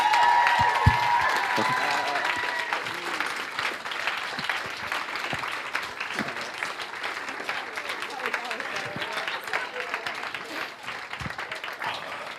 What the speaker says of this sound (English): can you give my mum a big round of applause, please?